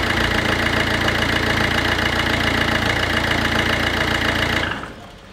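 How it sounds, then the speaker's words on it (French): A modern diesel engine idles loudly and steadily with a rough, knocking clatter, then is switched off near the end, leaving a quiet room. "Oh, ce bruit de camion. Ah, c'est bien un diesel."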